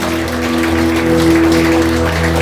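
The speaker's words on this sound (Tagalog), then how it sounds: "Mataas po na palakpak." Congregation clapping during a worship service, a dense, even wash of applause held at a steady level, with a faint sustained tone beneath and no voices rising above it.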